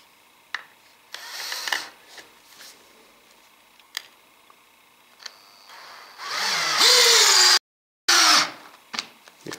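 A Makita CXT FD06Z drill driver in low range sinks a screw into a piece of wood. Short clicks and brief bursts build into a loud rising whine that cuts off abruptly, then a second short burst follows.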